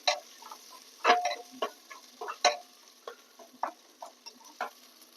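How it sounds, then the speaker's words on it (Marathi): Onion with ginger-garlic paste sautéing in a pan for vegetable pulao, heard as intermittent scraping stirs and clinks of a spatula over a quiet, low sizzle, with no talking. "इथं कांदा पण आपला छान परतून निघालाय आता"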